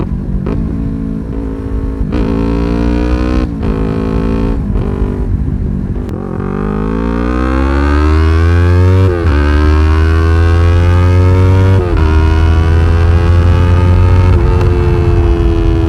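A highly modified Yamaha R3 motorcycle engine, loud and close, blips its throttle several times, with sharp rising revs that fall away again, then climbs into longer sustained high revs.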